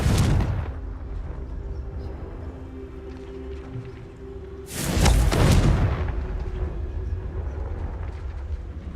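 A Confringo spell explosion in the video game Hogwarts Legacy bursts out as a loud, close boom with a roaring rumble that trails off over several seconds, set against a dense, rumbling game background.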